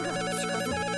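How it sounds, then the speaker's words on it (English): A video game telephone rings loudly in a steady, repeating electronic trill, alone with no talking. "The phone is ringing."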